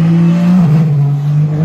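A Toyota Gazoo Racing Le Mans race car engine drones loud and close in one sustained tone that dips in pitch midway, with no other sounds.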